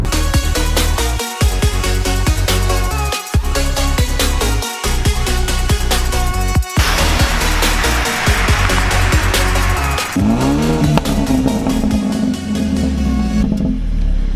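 A BMW 4 Series car engine hums and revs loudly and close by, with gear-change dips and a rising whir toward the end as it pulls away.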